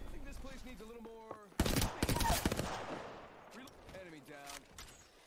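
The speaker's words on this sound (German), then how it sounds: "Oh, was für ein schöner Schuss." A burst of rapid gunfire in the video game Apex Legends crackles loudly in the middle, a quick volley of shots, with someone talking excitedly before and after.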